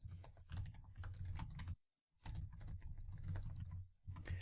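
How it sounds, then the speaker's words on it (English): Fingers type a password on a computer keyboard at a command line, a close run of quick, soft key clicks in bursts with a short silent pause in the middle. "I'm actually typing out a password in the command line with echo"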